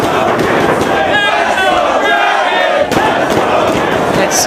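A packed independent pro wrestling crowd at Ring of Honor's Glory By Honor IV roars and chants loudly and continuously, with a brief dip near the middle.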